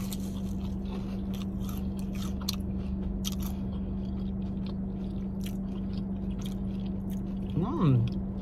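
Crispy Cheesecake Factory Buffalo Blasts are bitten and chewed up close, giving scattered soft crunches over a steady low hum, with a short vocal murmur near the end.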